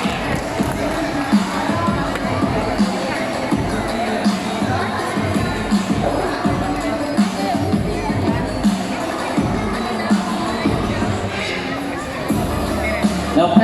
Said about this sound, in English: Let's give her applause for our mathematical wizard, Snow.